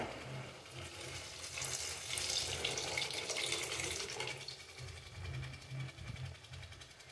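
Strained tamarind water pours steadily into a pot of fish curry, a soft continuous splashing trickle that swells midway and then eases off, close by and fairly quiet.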